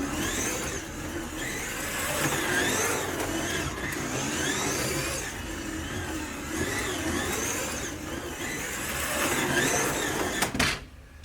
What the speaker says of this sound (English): It's got that cool noise with treaded tyres that cars sometimes make